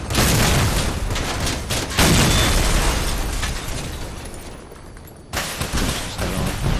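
A vehicle-mounted machine gun in the car-combat game Crossout fires heavy, dense bursts of gunfire mixed with explosive booms, loud and nearly continuous, dropping briefly near the end before resuming.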